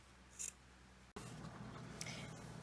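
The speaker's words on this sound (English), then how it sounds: "And I'm going to cut my entire strip like this." Scissors snip through a folded strip of recycled T-shirt fabric, giving a couple of short, quiet crisp cuts with a sharp click between them against a faint background.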